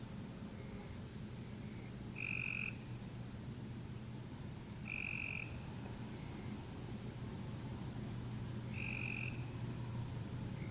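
A gray treefrog gives three slow, whirring trills, each about half a second long and spaced a few seconds apart, standing out clearly over a steady low background hum.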